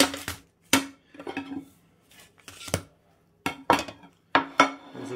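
A hot pan set down clumsily in a home kitchen, a series of sharp metallic clanks and clatters with short quiet gaps between them, close and fairly loud, with no speech.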